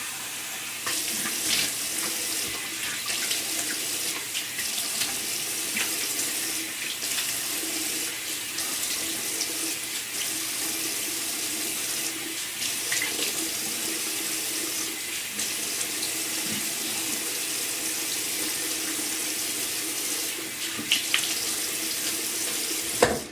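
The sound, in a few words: water splashing while rinsing soap off with cupped hands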